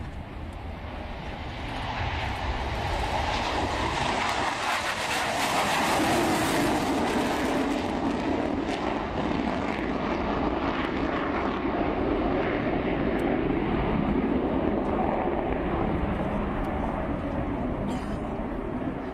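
A C-17 transport aircraft at the 2004 Fairford airshow, a loud steady jet engine roar that swells after the first couple of seconds and holds broad and continuous for the rest, with no talk over it.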